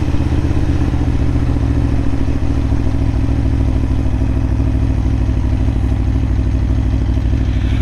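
Aprilia Tuono motorcycle engine running loud and close throughout, a steady droning, throbbing note through a clutch upshift and an auto-blipped downshift, with no voices.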